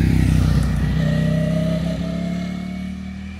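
A Ducati Panigale V4 superbike engine drones loud and close, a deep steady roar that eases slightly as it carries on, with no talk.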